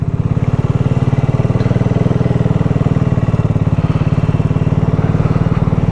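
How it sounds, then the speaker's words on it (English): A liquid-cooled BSA Goldstar 650 motorcycle idles close up with a steady, loud, even thump that holds the whole time, though the cooling fan cutting in cannot be picked out clearly against the engine. "you might be able to hear the fan kicking in, because yes, unlike the Interceptor, this is a liquid cooled bike"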